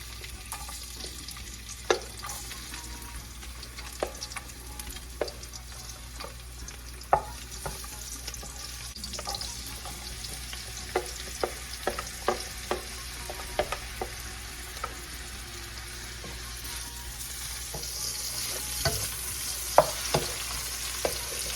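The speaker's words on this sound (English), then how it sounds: "So I'm going to start by adding my garlic." Garlic fries quietly in oil in a pan under a steady low hiss, with intermittent spoon clicks and scrapes against the pan as it is stirred.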